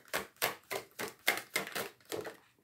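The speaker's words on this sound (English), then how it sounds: "One more shuffle" Quick bursts of tarot cards riffling and slapping together, about eight short shuffles in a steady rhythm, close by and fairly quiet.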